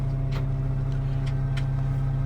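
YTO LX 1404-A tractor engine on a test drive, a steady loud low drone with a constant hum and a few faint clicks on top, no talk.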